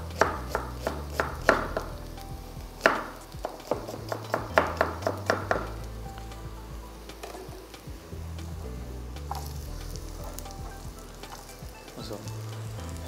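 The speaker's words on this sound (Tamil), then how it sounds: "ஆனியன் வந்து ஃபைன் சாப் பண்ணி வச்சுக்கணும்" A knife finely chops onion on a board with a quick series of sharp taps, and a steady pan sizzle carries on underneath once the chopping stops.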